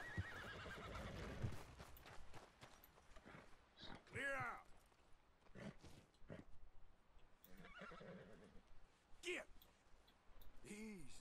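American paint horses whinny and neigh in the Red Dead Redemption 2 video game, several rising and falling calls mixed with hoof clops and snorts, close and fairly loud, while someone talks over the game sound.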